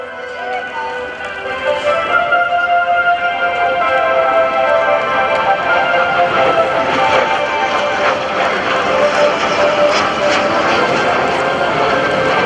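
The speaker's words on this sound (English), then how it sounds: "Demonstrating that triple aileron roll, and even though it was designed as a trainer, the L-39 and variants have seen action as a frontline military strike aircraft" An L-39 trainer jet rolls through a triple aileron roll at a naval air station airshow, its engine a steady, loud broadband roar that swells early and then holds for the whole stretch, with crowd noise or a voice faintly mixed in.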